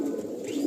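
A Teddy Kasuri pigeon gives a steady low cooing call, close and fairly loud, filling the short moment without pause.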